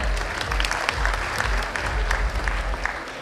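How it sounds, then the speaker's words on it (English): Crowd applauding at a college freshers party and inauguration event, sustained dense clapping with low booming hall rumble throughout. "please give a big round of applause for him"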